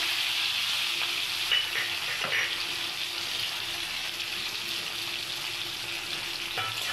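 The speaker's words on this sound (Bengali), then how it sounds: "এবার আমি একটু টমেটোটা দিয়ে দেবো, দিয়ে আদা বাটা রসুন বাটাটা দিয়ে দেবো।" Browned onions fry in a pan with tomato and ginger-garlic paste, making a steady, even sizzle that runs for the whole stretch with only small crackles and slight shifts in intensity.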